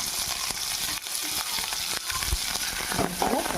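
Coriander leaves frying in a pan with cumin seeds, a steady close sizzle and crackle with a few soft stirring scrapes.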